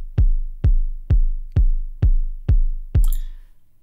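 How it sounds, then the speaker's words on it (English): A programmed kick drum in FL Studio plays seven even quarter-note hits, each a deep punchy thump with a quick decay, alone and clean, ending on a brief higher-pitched blip. "We'll do some quarter note kick drums,"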